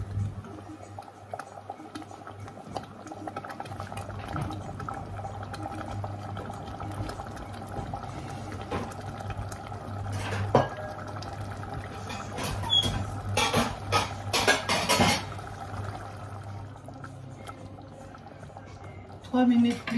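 An Indian curry fish sauce simmers in a pot, giving a steady soft bubbling that runs throughout, with louder clinks and stirring bursts near the middle and end.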